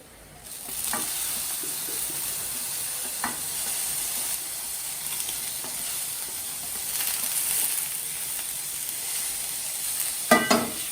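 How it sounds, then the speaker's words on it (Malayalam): Chili, ginger, garlic and curry leaves hit hot oil for a lamb intestine stir-fry, bursting into a loud, steady hissing sizzle. A few utensil knocks sound near the start and a clatter near the end, with no voices. "നമുക്ക് അതിനകത്തോട്ട് മുളകും ഇഞ്ചിയും വെളുത്തുള്ളിയും കറിവേപ്പിലയും കൂടെ ചേർക്കാം"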